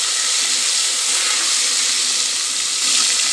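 Green chillies, bay leaves and mint sizzle in hot oil in a pan, a steady, loud, hissing sizzle with no talk.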